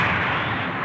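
A huge blast as a Gundam and its cargo explode in an anime, a loud, sustained roaring rumble filling the whole moment without a break.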